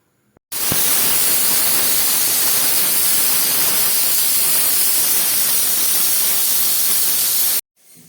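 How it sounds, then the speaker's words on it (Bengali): Kabuli chickpeas cooking in a pressure cooker give off a loud, steady steam hiss lasting about seven seconds, starting and cutting off abruptly in an otherwise quiet kitchen. "এবার এটাকে আমি একটু সিদ্ধ করে নেব।"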